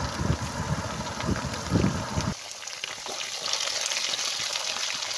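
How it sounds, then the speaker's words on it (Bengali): Pumpkin, pointed gourd and potato sizzling in hot oil in a pan, a steady close frying hiss with stirring clatter in the first half, quieter sizzle after. "এবারে সবজির মধ্যে আমি কুমড়ো, পটল, আলুটা প্রথমে দিয়ে একটু ভেজে নেব।"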